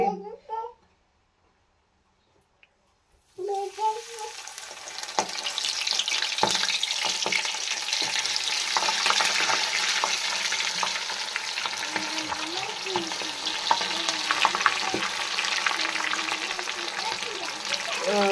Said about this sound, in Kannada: ಇದು ಫುಲ್ಲು ಬಬ್ಬಲ್ಸ್ ಎಲ್ಲ ಕಮ್ಮಿ ಆಗೋವರೆಗೂ ಫ್ರೈ ಮಾಡ್ಕೋಬೇಕಲ್ಲ